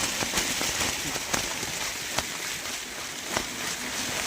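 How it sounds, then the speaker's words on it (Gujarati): Heavy rain with wind drums steadily on a surface in a farm field, with loud individual drops ticking out now and then over the constant rush. "જો જોઈ કેવો વરસાદ આવે છે"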